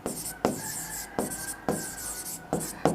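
Pen or marker strokes scratch across paper or a board by hand, with short rubbing bursts recurring every half second or so at close range, with no voices over them.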